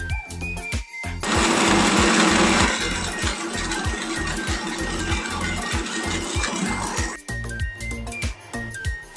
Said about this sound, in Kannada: ನೈಸಾಗಿ ರುಬ್ಕೋಬೇಕು